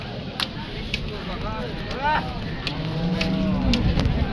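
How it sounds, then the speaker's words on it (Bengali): Cows moo at a cattle market in Rajshahi, with several drawn-out calls, some near and some farther off, over a steady din of crowd noise and voices. "এটি কি জাতের গরু"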